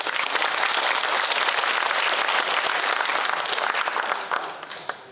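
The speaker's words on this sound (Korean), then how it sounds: "박수 한번." A concert-hall audience at a community talk event in Pyeongtaek bursts into dense, steady applause that stays loud for about four seconds, then tapers off at the end.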